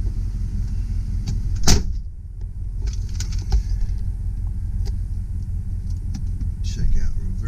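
A 1980 Mercedes-Benz 450SEL 6.9 idles with a low steady rumble as it sets off on a test drive, heard from inside the car, with a sharp door-like thump and a few small clicks and rattles.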